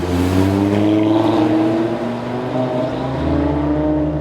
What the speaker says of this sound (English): I'm in the RS3 at Lime Rock.